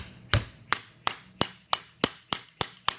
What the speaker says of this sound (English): Now I will start hammering this first bearing.